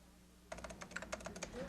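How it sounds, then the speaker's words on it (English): Rapid keystrokes on a computer keyboard patter in a quick, close run after a brief quiet start, moderately faint against a low background hum. "Typing in copy for an ad layout is a time-consuming job"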